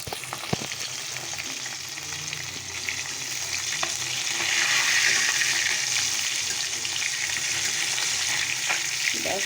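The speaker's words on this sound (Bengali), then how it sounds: "মাছটা ভেজে নিচ্ছি মাছটা ভাজা হয়ে গেল" Fish fries in hot oil with a loud, continuous sizzle and crackle, swelling slightly midway, with occasional stirring noises.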